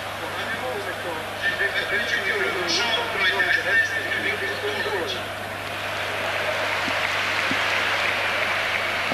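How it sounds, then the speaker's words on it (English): Stadium crowd applause during a Yugoslavia versus Nigeria football match, a broad distant wash of clapping and crowd noise under a commentator's voice, swelling midway then settling into a steady roar. "Applause for the performance of Petrovic as the substitution is announced on the public address system."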